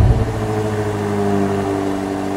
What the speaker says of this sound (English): we're gonna fire it up right now and take a listen